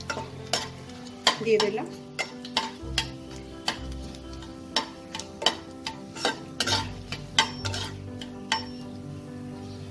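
Dried red chillies split down the middle and half a teaspoon of nigella seeds in hot oil, a low sizzle punctuated by frequent sharp spatula clicks and scrapes against the pan, with a brief spoken remark.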